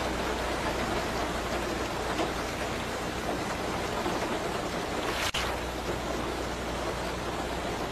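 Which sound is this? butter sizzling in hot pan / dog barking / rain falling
rain falling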